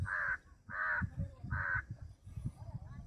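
A crow caws three times in a steady rhythm, harsh and fairly close, with a voice talking quietly underneath.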